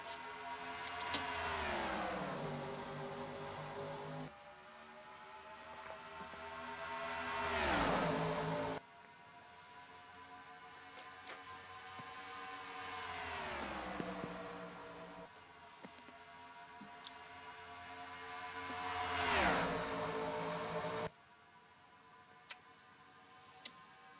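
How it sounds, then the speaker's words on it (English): Race cars in the NASCAR Racing 2003 video game roar around Charlotte Motor Speedway, engine notes rising and falling sharply as each car sweeps past in repeated loud pass-bys, with steady engine drone between them. "These cars are flying around Charlotte Motor Speedway."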